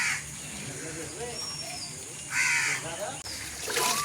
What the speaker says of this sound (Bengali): কাকটাকে আজ তোমাদের সামনে তুলে ধরলাম